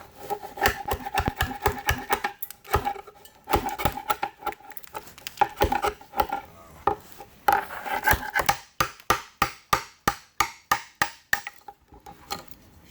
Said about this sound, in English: Try turning the chisel over. That might help.